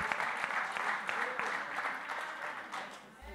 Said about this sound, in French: Applaudis cet esprit mon Dieu